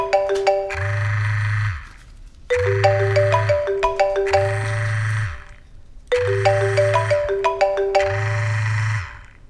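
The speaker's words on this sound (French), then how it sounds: "Ah, appel manqué." A mobile phone rings with a repeating melodic ringtone, four loud bursts separated by short pauses and a low buzzing vibration pulsing under each burst, then it stops unanswered.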